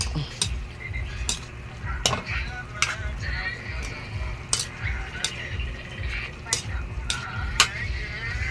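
Food stirred in a pan after salt goes in, a spoon scraping and clinking against the metal in a steady run of sharp knocks over a soft continuous sizzle.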